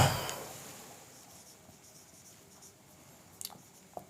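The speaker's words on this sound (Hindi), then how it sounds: "यहाँ पे मैं लिख देता हूँ" Chalk or marker scratching across a board during a class 7 maths lesson on perimeter, a faint continuous rubbing with a couple of sharper taps near the end, quiet and without talk.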